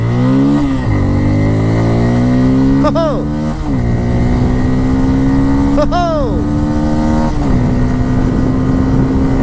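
A Bajaj Pulsar N250, a 250 cc motorcycle, revs hard and pulls through several gear changes, its steady engine note climbing in pitch and dropping at each shift, loud and close throughout.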